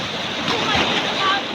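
Rough sea surf washing and rolling close by on a Philippine shore, a continuous broadband wash that swells briefly in the middle, with wind noise over the microphone.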